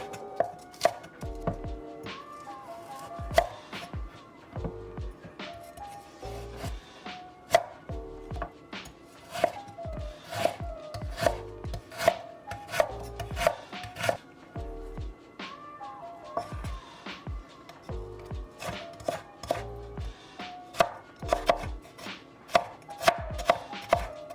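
A knife chops green onion on a cutting board in quick, irregular bursts of crisp, close taps, steady and clear with no one speaking.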